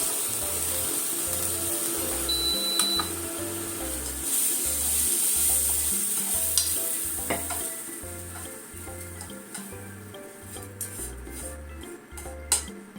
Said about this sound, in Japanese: ネギ1本と残っていた揚げちょっと入れて、本だしと醤油で焼きました。